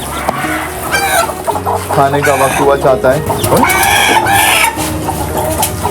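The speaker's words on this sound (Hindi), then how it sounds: "मुर्गे की आवाज़ तो क्या हो गया मुर्गे साहब?" Desi and special-breed chickens and roosters at feeding time cluck and squawk repeatedly, close and loud, with someone talking over the birds throughout.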